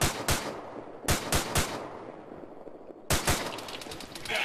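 Several bursts of gunfire from the video game ArmA 3, single shots and quick clusters at intervals, then a longer rapid string of shots near the end, fairly loud over low background noise.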